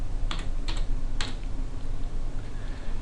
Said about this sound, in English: to order mixes I type in the search bar